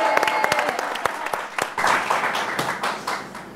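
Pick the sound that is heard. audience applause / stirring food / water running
audience applause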